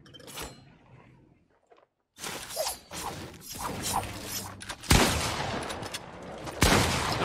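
Gunfire in a Fortnite battle royale match: quiet opening with a few faint clicks, then bursts of loud, sharp shots and rattling mechanisms that grow heavier toward the end.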